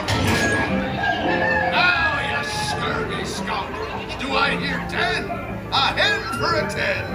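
Hen clucking on the Pirates of the Caribbean ride at Magic Kingdom, mixed into a busy ride soundtrack with animated pirate voices, music and crowd noise throughout.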